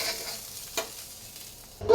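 Pickled mustard greens being cooked in a wok to drive off moisture give a quiet, low hiss, with one brief stir near the start and a louder scrape or clatter at the very end.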